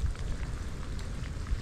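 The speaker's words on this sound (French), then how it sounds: "Regardez-moi ça, sous la pluie," Steady rain pattering on a surface during an early-morning thunderstorm in Sidi Bel Abbès, Algeria, a dense, even hiss with close drops, no voices.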